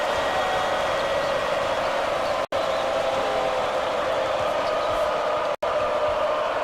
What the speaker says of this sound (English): Listen to the crowd, Vern.